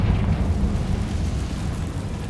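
A Confringo fire spell explodes in Hogwarts Legacy with a loud, deep burst and a rumbling roar that decays steadily over a couple of seconds.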